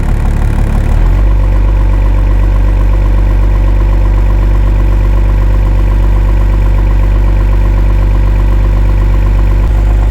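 A vehicle engine idles on fast idle, settling in the first second into a loud, close, steady drone with an even low throb that holds unchanged to the end.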